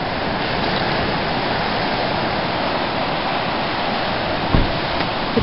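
Surf washes steadily onto a beach in Inverness, Nova Scotia, a continuous broad roar of breaking waves with no pauses and no voices.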